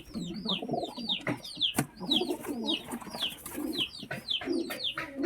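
Pigeons squabble inside a loft, with rapid wing flaps, scuffling and repeated throaty coos close up, in busy irregular bursts and no talking.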